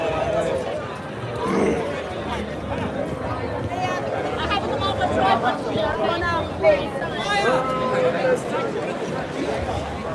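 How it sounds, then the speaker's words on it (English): Crowd chatter at a street protest in Britain surrounds the listener, a dense murmur of many voices with nearer speech passing by and occasional louder shouts, steady throughout. "Look at the crowd."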